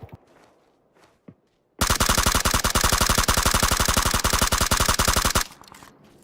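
Sustained rapid automatic gunfire in PUBG, a loud, close, evenly spaced burst of many shots lasting about three and a half seconds, preceded by a few faint isolated sounds and followed by quieter game noise.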